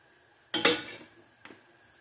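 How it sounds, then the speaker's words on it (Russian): A spoon scraping and clanking against a frying pan while stirring food, one sharp clatter followed by a fainter knock a second later, close and fairly quiet. "Эту можно уже ложечкой мешать."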